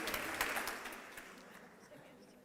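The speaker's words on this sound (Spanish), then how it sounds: "Un aplauso para Juana." Audience applause for a guest speaker at a talk, fairly faint and distant, with scattered claps fading out over a couple of seconds.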